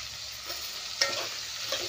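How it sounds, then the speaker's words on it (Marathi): Onions and chopped potatoes sauté in a pan for an egg chicken biryani, giving a steady broadband sizzle with a few sharper stirring scrapes near the one- and 1.7-second marks, close and continuous with no talking. "आता दोन्ही आपल्याला छान परतून घ्यायचं आहे"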